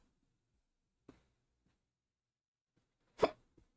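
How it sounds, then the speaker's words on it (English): Two sudden hiccups, a small one followed by a sharper, louder one a couple of seconds later, each short and isolated against near silence. "I have hiccups now."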